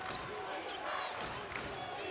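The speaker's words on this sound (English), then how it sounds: "Crowd getting into it at the Quabain Center." Basketball crowd noise at the Qubein Center during a close NCAA men's game between Furman and High Point, a steady broad roar of spectators rising slightly mid-clip, continuous throughout.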